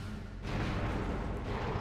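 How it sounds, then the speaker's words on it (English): An explosive box blowing up in Metroid Prime, a sudden loud broad boom that cuts in and rumbles on for over a second, with no speech. "very, very useful explosion, because that kills 2 enemies and gets us access to a missile expansion"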